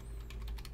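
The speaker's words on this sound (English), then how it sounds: "you can simply just type in VI" Quick run of keystrokes on a computer keyboard during a Linux terminal session, a few soft close clicks tapping out a short command with no talking.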